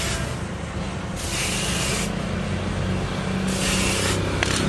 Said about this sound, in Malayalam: ഒന്ന് സ്പ്രേ പെയിൻ്റ് അടിക്കുന്നുണ്ട്